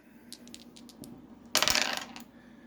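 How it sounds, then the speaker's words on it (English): Dice rolled for a board game clatter in a few light taps, then tumble in a bright, loud rattling burst that quickly fades, close by and with no talk. "Let's roll the dice, shall we, for the next one?"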